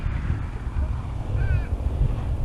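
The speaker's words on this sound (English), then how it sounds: "Let's get out of this wind." Wind blowing hard into an outdoor microphone, producing a loud, steady low rumble and buffeting that fills the short moment.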